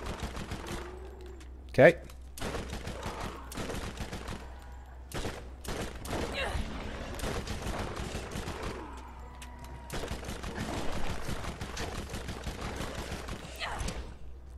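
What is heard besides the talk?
SMG gunfire in the Borderlands video game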